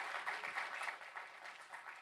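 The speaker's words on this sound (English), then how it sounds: "Let's clap your hand for him, please." Brief, soft round of audience clapping at a JavaScript conference in São Paulo, a steady patter of many hands, fairly faint and distant, with no speech over it.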